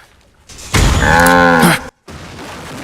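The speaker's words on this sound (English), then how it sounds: "It was like it makes a cow noise." A loud, drawn-out cow-like moo from enemy characters in Metal Gear Solid 3, lasting about a second with a rich harmonic tone before cutting off abruptly to silence, followed by faint game ambience.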